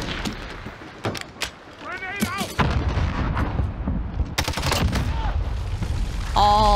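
A cruise missile launches in a video game, followed by a rapid run of sharp explosions and gunfire-like bangs while players talk over the chaos.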